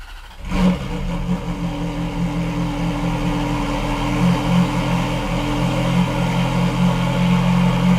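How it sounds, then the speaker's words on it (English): A manual widebody Ferrari F430 engine cold-starts with a sharp burst, then settles into a loud, steady high idle with a throaty mechanical drone. "Ferrari F430 wide body manual cold start."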